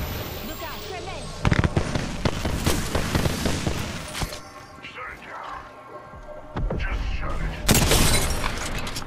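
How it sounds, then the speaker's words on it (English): Grenade blasts and explosive bursts ring out in the Apex Legends video game, sharp booms and crackling shatter hitting repeatedly amid gunfire-like pops, with a loud cluster late on and a player talking over the action. "Look out, grenade!"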